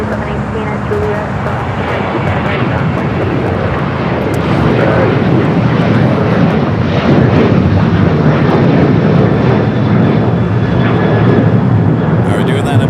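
Airliner engines roar steadily and loudly at LAX, an American Airlines jet taxiing or departing on the busy airfield, with a voice talking over the continuous broadband rumble throughout.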